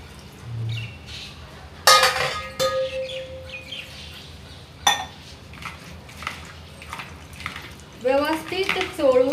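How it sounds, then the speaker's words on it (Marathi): Salted bitter gourds are rinsed in water in a steel vessel, with sharp clanks of the pot, splashing and dripping, and birds chirping faintly in the background. A person talks over part of it. "आता आपण ही कारली स्वच्छ"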